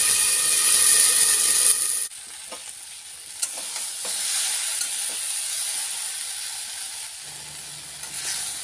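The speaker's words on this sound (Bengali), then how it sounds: "সবজিগুলো ভালোভাবে কষিয়ে নেওয়া হয়ে গেছে" Vegetables with potato, plantain and drumstick sautéing in an open pan while a fish curry is cooked: a steady sizzle and hiss with occasional stirring scrapes, loud at first, then quieter after the pan is briefly covered.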